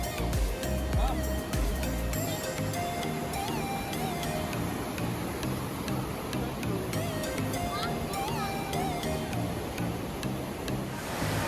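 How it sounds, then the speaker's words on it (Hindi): The fast, rushing current of the Parvati river near a gurdwara entrance roars as a steady, dense wash of noise throughout, with scattered clicks and a voice speaking over it. "पार्वती नदी के बहाव की आवाज़ तो आपको आई गई होगी, कितना तेज़ बहाव है।"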